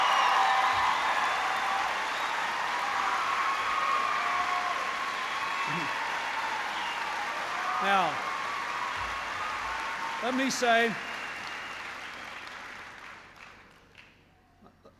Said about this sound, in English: you were cheering so loud, let me finish.